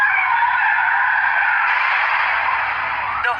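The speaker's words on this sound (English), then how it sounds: "The horrifying sound of the crash." Car skidding hard with broad scraping tire noise, loud and continuous, shifting partway through and ending in a sharper crunching impact, during a street carjacking crash.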